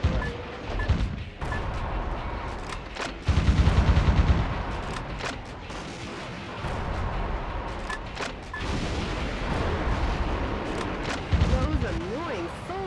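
Dense shotgun blasts and rapid machine-gun fire with explosions in the video game Metal Wolf Chaos, continuous and loud throughout, mixed with game music and effects.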